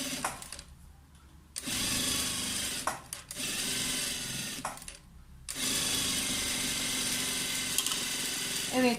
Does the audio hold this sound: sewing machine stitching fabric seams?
yes